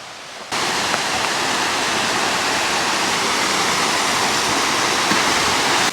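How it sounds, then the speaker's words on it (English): A waterfall pours down over rocks in a steady, loud, broadband roar that starts abruptly and holds constant, with no voices. "Heaps of falls just flowing down."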